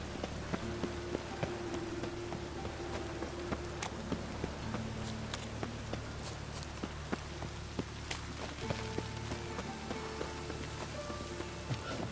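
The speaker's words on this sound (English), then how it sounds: "Rain again." Steady rain patters on a surface in The Witcher 3: Wild Hunt, with scattered sharper drop taps and a low continuous hum underneath.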